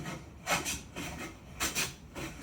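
A hand plane shaves a wooden board in two pairs of short rasping strokes, fairly close and moderately quiet, with a steady low background hum between passes.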